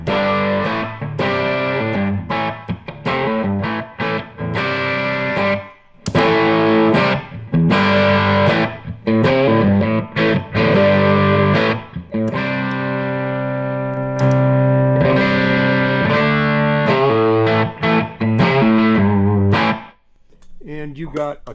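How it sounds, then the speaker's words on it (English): An electric guitar plays through a VTLD1 vacuum tube boost pedal in a warehouse, giving loud, driven chords and riffs with short pauses between phrases and a brief break near the end. "you have a boost, which is a really great vacuum tube boost, and I'll demonstrate a little bit of that for you right now"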